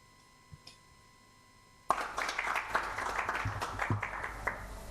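Applause from a conference audience after a talk on democracy and economic growth, breaking out suddenly after near silence and continuing as steady, moderately loud clapping for several seconds.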